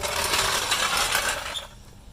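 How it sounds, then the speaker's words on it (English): Car jack being lowered under a 2015–2020 Dodge Charger, a dense metallic rattling and ratcheting mechanism sound up close that stops abruptly after about a second and a half. "And I lower, get the jack out."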